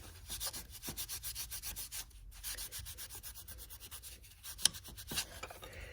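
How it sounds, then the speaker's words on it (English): Cloth rubbing steadily across a stamped metal jewelry piece to wipe off excess paint, giving close, continuous scratchy swishes with a sharp tap near the end. "I'm going to wipe off the excess paint here."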